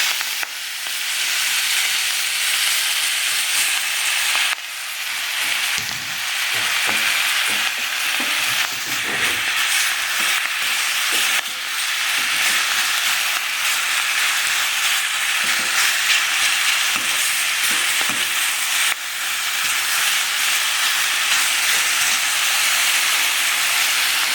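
Spinach frying in hot oil with cumin seeds and asafoetida in a home kitchen, a loud, continuous sizzling hiss with occasional stirring clatter and no talk.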